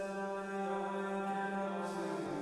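A sung vocal drenched in heavy reverb at a church-like wet level, one sustained tone with a long, washy tail ringing under it, quiet and alone.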